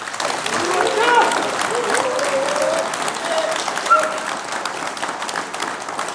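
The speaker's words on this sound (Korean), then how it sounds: "여러분 한 번 더 박수를 주십시오" Audience applause at a political lecture by a party supreme council member, a broad steady wash of clapping that holds for several seconds, with voices faintly mixed in.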